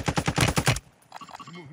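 Gunfire in the Warzone video game: a rapid burst of about seven shots, then quieter in-game sounds and brief voices over the game audio.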